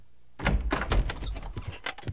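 A cartoon back door bangs and rattles in a quick flurry of thuds and knocks, loud and close, heard alone with no one speaking over it.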